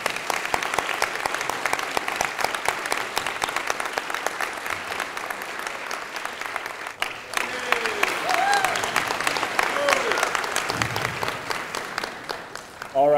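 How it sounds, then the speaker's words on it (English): School audience at an elementary school award assembly gives a long round of applause, with many hands clapping steadily for over ten seconds and some voices and whistles mixed in near the end. "let's give Alysia one more round of applause"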